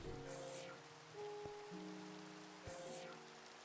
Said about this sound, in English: I like that I can hear the rain in the base